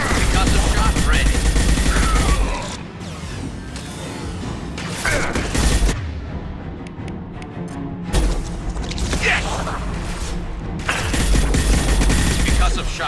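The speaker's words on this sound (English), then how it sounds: "Concussive shot ready. Firing a high impact shot." Gunfire and a heavy concussive shot in the Mass Effect 2 video game, loud bursts of shots at the start and end with quieter combat noise between.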